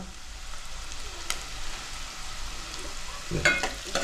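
Onions fry in a pan for a clam curry, sizzling steadily and moderately loud, with a couple of stirring scrapes and a clatter near the end.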